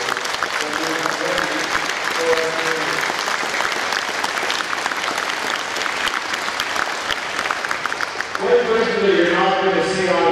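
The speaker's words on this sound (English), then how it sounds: "So I ask the audience a round of applause for the 100th medical first responders." Audience applause at a St John's ambulance branch annual inspection ceremony, steady and sustained for most of the stretch, with a voice starting to speak over it near the end.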